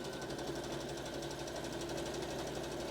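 A sewing machine stitches across the joined shoulder seam of a kimono wrap dress, a steady continuous mechanical hum running throughout at a constant, fairly quiet level with no talking.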